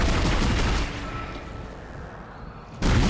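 Heavy gunfire rumbles in sci-fi survival horror game Dead Space, a dense burst of shots fading into a low boom, then another loud blast near the end.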